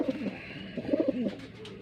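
High Flyer Gribas pigeons on eggs at the end of breeding coo close by, a short series of soft, throaty warbling coos in two bursts, with no voices.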